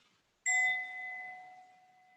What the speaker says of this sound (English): Bring my bell back.